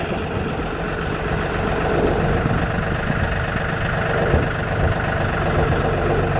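A turbo GMC truck engine idles with a steady, deep rumble as the truck backs up slowly. The sound is close and even throughout, with no talking.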